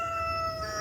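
Backyard homestead chickens sound a sustained crowing call with clear tonal bands, close and fairly loud, lasting under a second with no talk.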